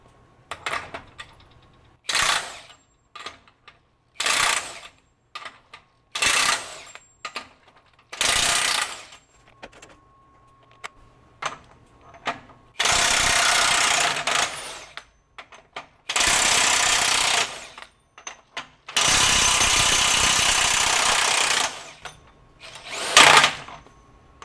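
A DeWalt DCF961 20V high-torque cordless impact wrench loosens fasteners in a series of short, loud hammering bursts, a few seconds apart, with two longer sustained bursts near the end.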